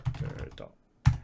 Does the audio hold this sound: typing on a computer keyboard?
yes